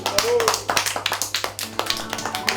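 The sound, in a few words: group clapping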